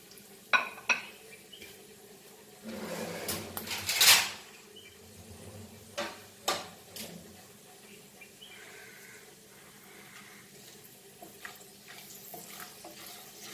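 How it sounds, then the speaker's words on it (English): Dry whole spices with asafoetida frying in a pan for mutton rogan josh, giving a quiet low sizzle broken by a few sharp clinks and scrapes, with a louder burst of stirring near the middle before it settles back to a soft crackle. "all the dry whole spices, and we will fry this"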